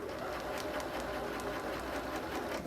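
A Bernina sewing machine stitches a quilt seam, its needle running in a fast, steady mechanical rattle with faint regular clicks, close and continuous throughout with no talking.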